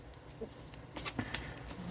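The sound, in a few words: shuffling tarot cards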